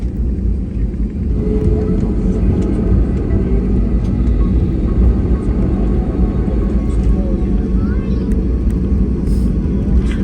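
Inside an American Airlines Airbus A321neo taxiing after landing at Los Angeles International Airport, a loud, steady low engine and cabin rumble fills the space, with faint rattles and clicks over it.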